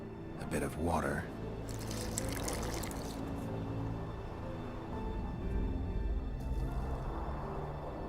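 Water poured into a flask in the fantasy video game Witcher 2, a brief splashing pour near the start followed by a faint trickle under a low ambient game background.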